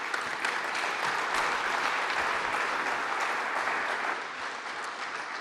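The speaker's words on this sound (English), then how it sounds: "let's give John a round of applause" A room full of people at a meetup event applauds after a talk, with steady, dense clapping that holds evenly for several seconds and eases slightly near the end.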